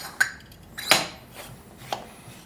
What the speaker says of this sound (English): let's start screwing the lid back on